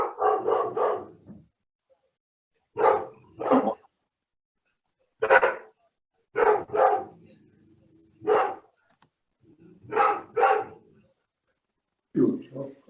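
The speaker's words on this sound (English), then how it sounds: "Can whoever has the dog mute themselves" A dog barks in repeated short bursts during an online bridge lesson call, loud and close through a participant's microphone, with gaps of silence between the barks.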